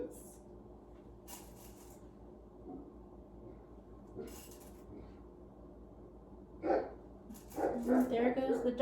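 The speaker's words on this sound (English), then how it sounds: "And there goes the dog out back barking at God knows what." A dog barks out back behind a house, a few muffled barks that are fairly distant at first, then louder and clearer toward the end over a low background.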